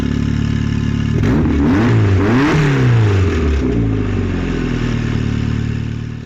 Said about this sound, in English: this is with the exhaust valve open